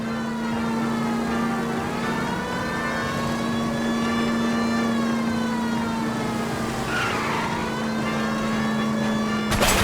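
A stolen green Kaiser Fraser car races through a chase in L.A. Noire, its engine holding a steady droning hum with a siren-like whine layered over it, continuous and loud throughout.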